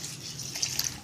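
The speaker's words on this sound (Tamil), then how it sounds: "இப்போ கொஞ்சம் தண்ணி விடுமா, இந்த விட்டுருமா" Water pours steadily into a wet grinder holding soaked rice for idli batter, a soft continuous splashing trickle heard close up with no talking.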